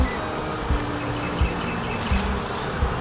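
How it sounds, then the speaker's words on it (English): Honeybees drone steadily inside a beehive during a first inspection, a dense close buzz with a few soft knocks and bumps from handling the hive, and no talking. "I can hear the buzzing in there."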